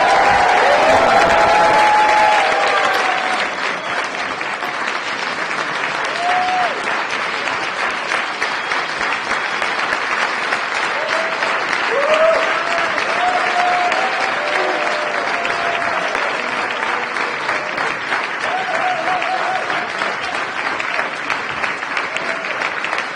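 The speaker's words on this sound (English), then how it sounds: "Let's give one more round of applause for this year's presidential" An East Room audience applauds Presidential Medal of Freedom recipients with sustained, loud clapping and some cheering, while a voice and tonal sounds surface briefly through the applause.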